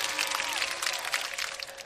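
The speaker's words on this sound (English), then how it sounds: "Give a round of applause." A short burst of clapping from a small group in a class, fairly close and continuous.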